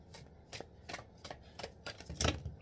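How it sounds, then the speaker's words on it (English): Cards are shuffled in a series of quick, crisp riffles, about seven bursts in a steady rhythm, close and quiet. "Alright, last shuffle."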